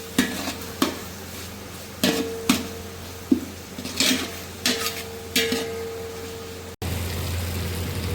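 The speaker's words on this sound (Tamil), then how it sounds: "அந்த பச்சை ஸ்மெல் போகிற வரைக்கும் நம்ம கிளறணும்" A spoon stirs ginger garlic paste in a pot for chicken biryani: irregular scraping strokes and clinks against the pot over a soft, steady frying hiss, with no talking.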